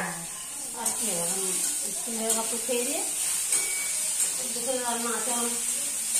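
Potatoes fry and a soybean curry cooks, with a soft, steady sizzle running beneath a person talking close by.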